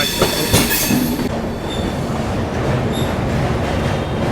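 The 16368 Kashi Tamil Sangamam Weekly Express rolls over the Rajghat (Malviya) bridge over the Ganges just after leaving Kashi station, a loud close rumble of wheels on the span with faint squeals and rhythmic clatter.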